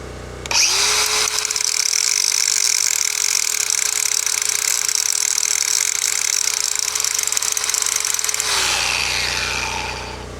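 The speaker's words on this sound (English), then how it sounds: "Let's grind it off a little bit." An angle grinder works over a weld on a Craftsman GT5000 mower deck, a loud steady high whine held for about eight seconds after spinning up, then winding down at the end.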